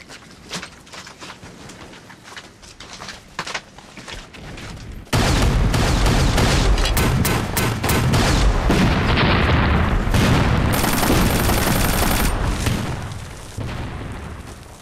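Heavy machine gun fire in a war drama set during the war against Japan: scattered shots at first, then a sudden, loud, dense barrage of rapid bursts and booms that rages close for about ten seconds before easing slightly.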